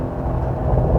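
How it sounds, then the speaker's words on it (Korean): A Porsche 992 downshifts to raise the revs, its exhaust a loud, steady low rumble rising slightly in intensity over about a second, heard close with no talk. "배기음이 이제야 들리네."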